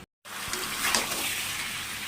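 Cold water poured into a pot of village-style chicken curry, a brief soft gush and splash after a moment of silence, continuing close and steady for about two seconds.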